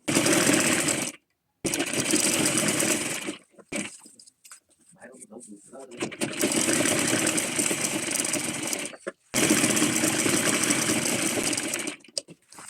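Sewing machine stitching zipper pieces for small pouches, running in long steady buzzing bursts with short pauses between seams, close and loud, with faint handling noise in the gaps.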